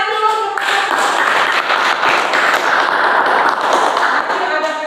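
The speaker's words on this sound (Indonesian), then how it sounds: "tepuk tangan dulu" A group of students in a classroom bursts into applause, a dense, lively patter of many hands clapping steadily for about five seconds, close by and loud.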